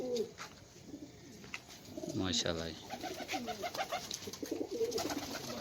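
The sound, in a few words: pigeons cooing on a rooftop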